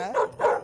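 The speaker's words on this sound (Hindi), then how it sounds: "पर कुत्ता पैंथर को देखकर भौंकने लगा" Cartoon dog barking at a panther, two quick, full barks with a slight whining edge, close and clear, no talk over them.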